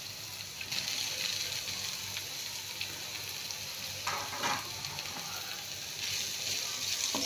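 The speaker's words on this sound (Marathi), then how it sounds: "आता आपण याच्यामध्ये बारीक चिरलेली कोबी घालून घेऊ." Finely chopped cabbage hits hot oil in a pan with fried dried fish, giving a steady close sizzle and a brief louder crackle of stirring midway. No voices.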